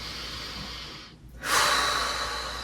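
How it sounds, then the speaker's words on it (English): One audible breath during a Pilates core mat exercise: a soft, steady exhale, a brief silent gap, then a stronger, breathy inhale or exhale close to the mic, no talking. "Take a little breath"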